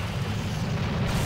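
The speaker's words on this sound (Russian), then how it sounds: "один выстрел, и просто он развалился сразу" A vehicle in the video game Ex Machina is destroyed by a single shot, a dense, continuous low boom and rumble filling the whole moment with no distinct separate impacts.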